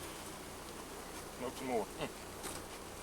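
Honey bees buzz steadily around an open hive in the background while beekeepers exchange a few words nearby, the dense insect drone continuing throughout.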